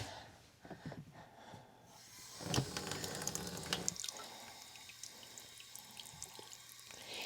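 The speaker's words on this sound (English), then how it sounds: "I'm going to put a little bit more water in." Water is poured into potting mix for starting ranunculus and anemones, a close, splashy trickle that swells midway and then settles into a steady flow with small drips.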